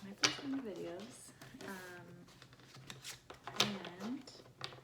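Tarot cards are shuffled in short riffling bursts, with a crisp flurry near the start and another a few seconds later, while a person talks throughout.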